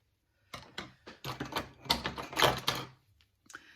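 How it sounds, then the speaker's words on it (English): Paper snips cut around stamped letters on a handmade Christmas card, giving a quick run of crisp, close clicking snips in uneven bursts that trail off into a short pause before a final snip. "I'm actually going to cut closer to the letters"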